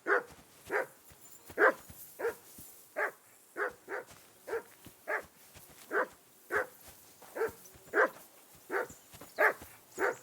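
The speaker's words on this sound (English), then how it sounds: "That dog of yours is barking like the devil." A hound barks steadily in Kingdom Come: Deliverance II, with about sixteen evenly spaced, close, loud barks in a regular rhythm, alone with no talk over it.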